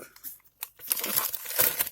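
A plastic parcel bag holding a Xiaomi Mi Power Bank 16000 mAh is crinkled and handled during unboxing, with sharp close crackling bursts that grow denser after a brief quiet start.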